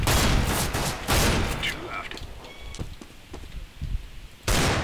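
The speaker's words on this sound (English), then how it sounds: "Oh wow, shotgun." Bursts of shotgun fire in Counter-Strike: Global Offensive, loud blasts at the start, around one second and again near the end, with scattered quieter in-game sounds between them.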